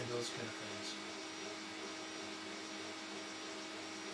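An engraving machine runs steadily while printing a word, giving a continuous, even mechanical whir and hum with a faint tonal drone, close by and uninterrupted.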